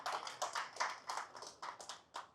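An audience clapping at a live talk session, a short burst of moderately loud, irregular claps that thin out toward the end.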